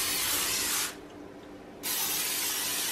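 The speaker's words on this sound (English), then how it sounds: "We're actually gonna spray the pans with some spray so it won't stick." Non-stick cooking spray hisses onto baking pans in two close, steady bursts of about a second each, separated by a brief quieter gap.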